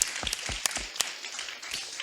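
Small audience clapping at an apprenticeship session, a brief, fairly faint patter of hands with a few distinct individual claps standing out, fading slightly toward the end.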